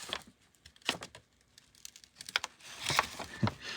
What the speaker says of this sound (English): Actually, I think the original instruction sheet is in here. Let's carefully open that up.